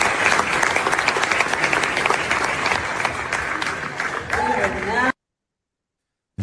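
Sustained applause from a large audience at the Time 100 event, dense clapping filling several seconds before cutting off abruptly into silence.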